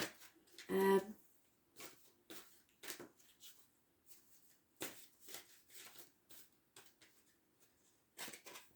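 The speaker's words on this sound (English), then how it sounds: "I will just shuffle them for 1 card at the bottom." Tarot cards shuffled by hand, a quick riffle burst near the start followed by soft intermittent card slides and taps, close and quiet.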